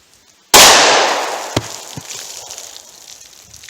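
A .45 ACP Gold Dot +P pistol fires a single sharp, loud shot into a big book, followed by a long decaying echo and a few faint knocks afterward.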